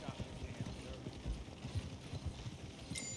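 Video game horses clip-clopping along, a steady rhythmic run of hoof beats close by, with someone talking over them.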